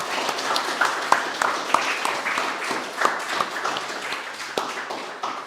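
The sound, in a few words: audience applauding presenters at demo day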